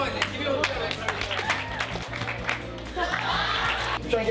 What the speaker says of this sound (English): Give Ellen a round of applause, man